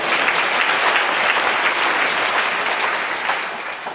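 A church congregation at a deaf ministry service breaks into dense, continuous applause, loud and steady before easing slightly at the end, with no talking.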